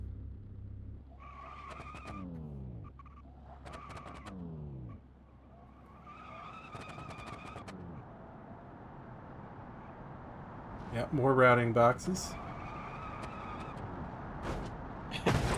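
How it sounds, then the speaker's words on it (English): A car in BeamNG revs through its gears, the engine pitch sweeping up and down in repeated rises with a burst of tire squeal near the end, while people talk over the gameplay. "Is the engine grunting in pain from the gear shifts?"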